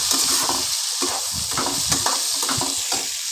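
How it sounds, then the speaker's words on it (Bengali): Chopped spring onions stir-fry in a pan for tomato chowmein, a loud hissing sizzle broken by repeated scraping strokes of a spatula, with no one speaking. "পেঁয়াজ কলি কুচি করে রেখেছি সেটাও দিয়ে দিচ্ছি"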